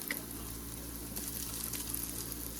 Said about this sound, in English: Okay, so that's been frying.